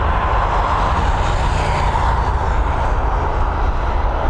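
An Airbus A321 airliner departs from Dublin Airport, its engines a steady, loud, broadband roar with a low rumble, holding constant throughout without voices.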